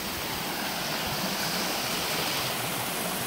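A waterfall on Cedar Run trail in Virginia's woods, a steady, loud, broadband rush of falling water without pause, heard close up with no voices.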